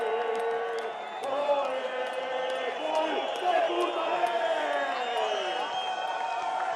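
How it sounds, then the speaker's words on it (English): A Spanish crowd at a freeride ski competition in Baqueira Beret cheers and whoops from a distance, a continuous roar running beneath a commentator talking over it. "And listen to this Spanish crowd"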